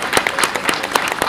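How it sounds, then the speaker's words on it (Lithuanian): Audience applause at the opening of President Valdas Adamkus's library museum, a brief burst of many hands clapping with distinct individual claps close by. "Aplaukime"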